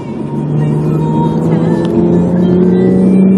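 A car is driven hard and fast, its engine droning loud and steady with a rising whine, close by and constant throughout, during a Thai racing show.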